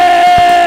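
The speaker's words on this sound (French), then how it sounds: "quelqu'un pousse des cris de victoire" A church crowd at a prayer marathon letting out loud sustained victory cries together, a dense wall of shouting voices close and continuous.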